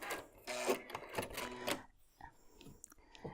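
A sewing machine runs in short quick bursts while stitching quilt bowtie blocks, its rapid mechanical chatter stopping and starting, followed by softer fabric handling noises.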